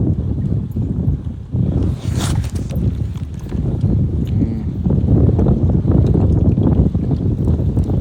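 Strong wind buffets the microphone steadily throughout while out kayak fishing on the water, a loud continuous roar with gusts and faint splashing beneath.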